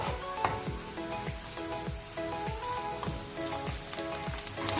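Potatoes frying in ghee for a potato halwa give a soft, continuous sizzle, broken by regular scraping strokes of a spoon stirring the pan, with no one speaking.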